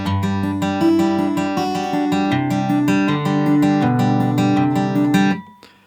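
Guitar in standard tuning plays the first chorus line of a song, a steady run of plucked notes and ringing chords, close and clear, ending with a decay into silence.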